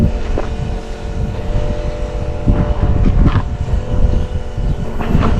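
A newly installed Holder tractor engine runs with a loud, steady low rumble and some wind buffeting across the microphone, with no talk.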